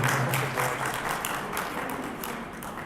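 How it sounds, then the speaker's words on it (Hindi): Audience applause at a mushaira poetry gathering as a shield is presented, a steady, dense round of clapping that fades gradually. "आपकी भरपूर तालियों में जनाब सरवर जावेद"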